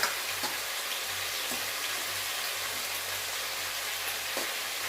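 Hilsa fish head frying in a pan of hot oil, giving a steady, even sizzle with faint crackles, quiet and close, with no talking.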